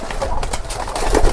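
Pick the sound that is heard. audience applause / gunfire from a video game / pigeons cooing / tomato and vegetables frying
pigeons cooing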